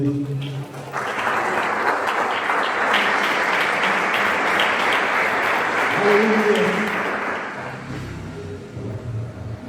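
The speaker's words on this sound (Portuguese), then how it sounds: "Dê uma salva de palmas para o Senhor." A church congregation breaks into applause after a sermon passage, the clapping swelling to a loud sustained roar for several seconds before tapering off, with a voice speaking at the start and again as it fades.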